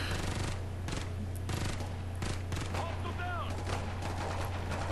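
Sniper rifle gunfire in the video game Ghost Recon: Future Soldier, several sharp shots at irregular intervals over a steady low game hum, with a voice speaking faintly at times.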